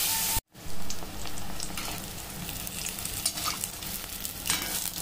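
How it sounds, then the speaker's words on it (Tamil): Batter-coated bread bajji frying in hot oil, a steady crackling sizzle with bursts of bubbling and stirring, starting after a brief cut of silence and continuing close and clear. "பிரெட் துண்டுகளை எடுத்து நல்லா அந்த மாவில் இந்த மாதிரி நினச்சி ஃபுல் பக்கமும் கோட் ஆகிற மாதிரி நினச்சிக்கோங்க. நினச்சிட்டு எடுத்து எண்ணெயில் போடுங்க."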